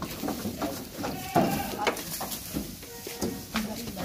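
A goat bleats several times while livestock are loaded for cargo transport in Gujranwala, short wavering cries heard at moderate distance over rustling and handling noise, with people talking nearby.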